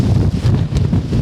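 Strong wind buffets the microphone outdoors, a steady low roaring rumble with gusty swells throughout and no voices.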